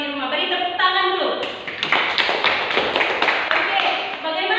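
Small classroom of students applauding during a microteaching lesson, a burst of scattered claps starting after a brief voice and continuing steadily to the end.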